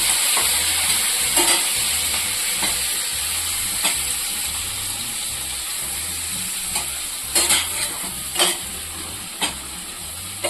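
Eggplant pieces frying with chili powder and salt for a kathirikai gravy, a continuous loud sizzle and hiss up close with occasional spatula scrapes and clinks against the pan.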